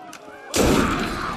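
A sudden loud, booming gunshot from the Assassin's Creed Unity video game cuts in after a quiet stretch, its blast ringing out and decaying over a second.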